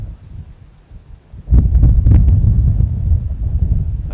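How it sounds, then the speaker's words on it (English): Wind gusting outdoors on a disc golf course, a low rumbling buffet against the microphone that rises suddenly midway and stays strong. "Wind kicking up a little bit."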